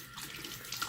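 Tap water runs steadily into a bathroom sink for a face rinse, a close, continuous splashing hiss with small surges throughout.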